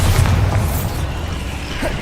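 A Bombarda explosion spell bursts in the Hogwarts Legacy video game, a loud low boom at the start that rumbles and fades through a steady dense background of combat effects.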